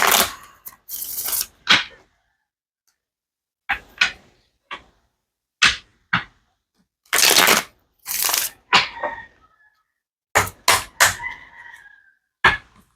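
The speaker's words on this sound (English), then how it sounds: "So I'm going to shuffle from that." Stained Glass Tarot cards being shuffled by hand, coming as repeated crisp riffling bursts of varying length separated by short pauses, close and clear with no talking.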